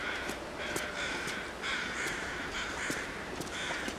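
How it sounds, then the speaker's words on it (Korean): Crows cawing in a snowy survival video game, several harsh caws repeating in irregular bursts over a quiet windy background, moderately close and fairly faint. "왜 이렇게 까마귀 소리가 많이 들리는 거야?"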